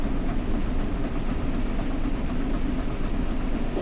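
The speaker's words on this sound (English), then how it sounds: "you hear the whistle or the beat of the locomotive" The Flying Scotsman steam locomotive running in the Train Sim World game, a loud, steady, low rumbling drive with dense mechanical noise throughout, close and unbroken, with no voices.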